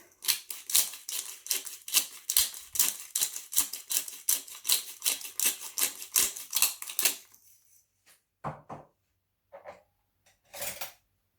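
Fresh black pepper being ground for an egg and cheese breakfast: a quick run of crisp, evenly spaced clicking cranks, close and loud, followed by a few scattered kitchen clinks.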